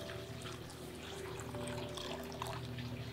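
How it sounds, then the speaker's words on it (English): Almond milk poured into a bowl of chia pudding mix, a soft steady liquid trickle, faint and continuous, with no talking. "And I'm also going to add in 1 cup of almond milk,"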